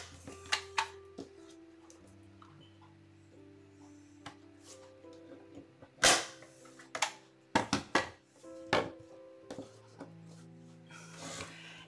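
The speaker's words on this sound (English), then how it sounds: "since this is nice and thick, I'm going to use my staple gun to attach them" Sharp staple gun snaps fastening pipe cleaners onto a thick wine cork wreath, a handful of loud isolated clacks and a quick cluster of shots over a quiet room with faint background music.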